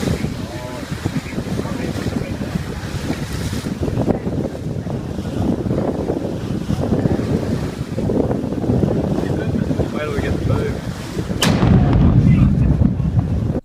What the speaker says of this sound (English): In 2014, this volcano exploded in Papua New Guinea, and it created a huge shockwave.